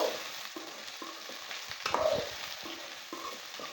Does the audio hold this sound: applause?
no